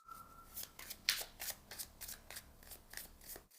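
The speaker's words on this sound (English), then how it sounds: "Let's draw 3 more cards." Tarot cards being shuffled and drawn from the deck: a close run of quick riffling flicks and soft slaps in a steady rhythm, ending abruptly, with no talk.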